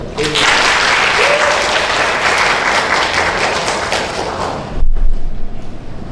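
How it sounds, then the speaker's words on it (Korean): Loud, sustained applause from a church congregation at a Pentecost worship service fills the space, steady clapping for several seconds before a low thump and easing toward the end. "박수 한번"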